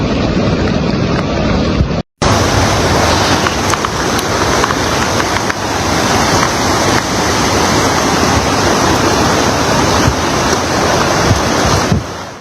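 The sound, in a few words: flooded river water rushing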